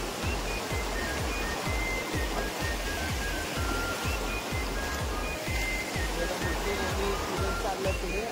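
River water rushes and gurgles over sand and weeds close by, a steady loud wash with rhythmic sloshing pulses as someone wades through it.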